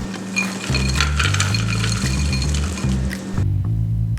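A rattling, clattering pour of frozen mixed vegetables tumbling into a crock pot, with short clinks and shuffling, ending in a brief settling sound.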